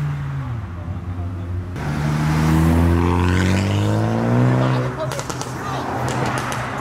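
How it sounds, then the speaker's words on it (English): A modified Mark 1 Ford Focus pulls away from a car meet, its engine revving loudly and climbing through the gears close by before fading as it leaves. "The Mark 1 Focus making a lot of noise."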